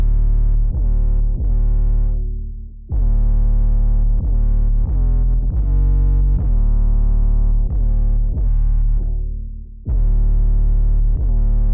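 An 808 sub bass pitched up 12 semitones and saturated with Waves One Knob plays a punchy repeating pattern of heavy, buzzing low notes, loud and upfront, with a couple of brief gaps and no talking.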